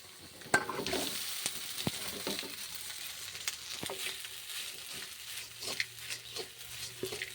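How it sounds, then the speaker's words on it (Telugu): Lemon juice being stirred into cooked rice in a pan, heard as soft, quiet irregular scrapes and light clinks from the spoon, with faint sizzling patter underneath. "ఇప్పుడు ఇది అందులో వేసుకొని కలుపుకుందాం."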